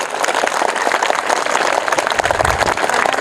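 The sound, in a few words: audience applause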